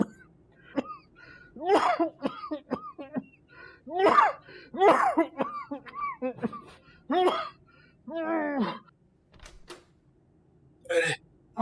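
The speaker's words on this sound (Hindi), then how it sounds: "आपको ये मामूली खांसी लगती है?" A man coughs repeatedly in harsh, throaty bursts and hacking fits spread over several seconds, close and loud, mixed in with people talking and a strained vocal struggle between coughs.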